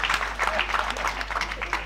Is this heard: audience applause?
yes